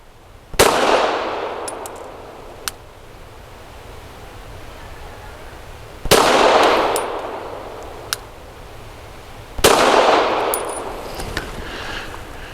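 An Arex Delta pistol strikes a 6-inch Titan Great Outdoors steel spinner target three times, each hit a sharp metallic clang with a ringing tail, spaced several seconds apart over faint outdoor hiss.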